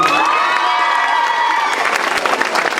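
Audience at an earthquake relief concert for Himalayan children cheering and clapping loudly, a dense, continuous wave of shouts and applause with some voices rising over it.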